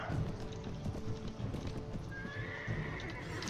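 Horse hooves clip-clop in quick rhythmic beats in the Mount & Blade: Warband mod A Clash of Kings, with a whinny, a steady galloping patter under a busy game soundscape.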